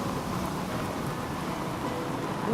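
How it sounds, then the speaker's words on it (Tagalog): Steady rain falls in a dense, even hiss of drops with no distinct events, continuous from start to finish at moderate loudness, with no voices. "Uy, umuulan."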